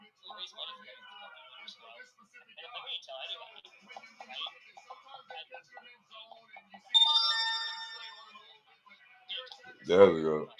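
A mobile phone rings with a bright tonal ringtone that cuts in partway through, sitting over and between ongoing talk from a sports broadcast of a Steelers at Bengals NFL game.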